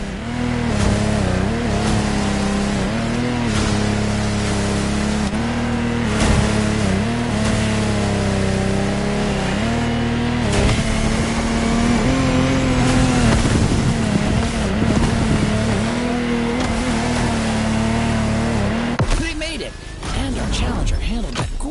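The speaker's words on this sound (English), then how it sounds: "Contestants need to push their engines." Racing boat engines, including a Lamborghini Technomar, roar and rev in The Crew Motorfest, a loud continuous whine that rises and falls with throttle changes over sustained wind and water rush, with a voice talking over it.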